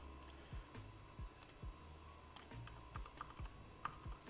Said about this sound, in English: I think it is my keyboard.